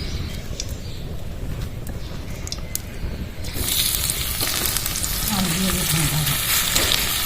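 Hot oil sizzling in a kadai while preparing roti chowmein, a steady close crackling hiss that grows louder and fuller partway through as ingredients hit the oil.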